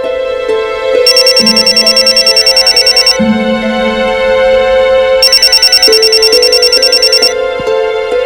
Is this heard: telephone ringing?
yes